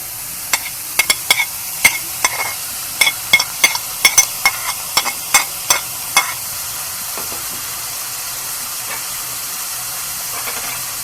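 Chicken sizzles and fries in a couple of spoons of oil in a pan, with a steady close hiss broken by a quick run of sharp scraping stirs that then fade, leaving only the sizzle.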